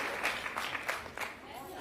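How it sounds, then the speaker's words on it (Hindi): An audience at an International Women's Day celebration gives a short burst of applause, and a voice talks over the clapping. "एक बार ताली बनती है, जोरदार ताली।"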